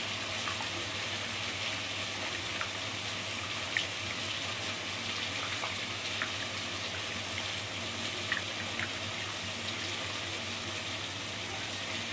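Steady running water pours without a break for about twelve seconds as 900 grams of raw chicken is rinsed in a kitchen, with faint clinks and splashes over the flow.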